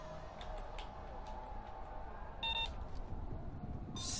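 Trip mines in Payday 2 emit short electronic beeps, a brief tonal pair of pings standing out faintly over a quiet hum of game ambience.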